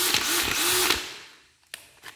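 A Bosch HDH183 cordless hammer drill runs briefly with a whirring motor whine, then spins down to near silence, followed by two short clicks or blips.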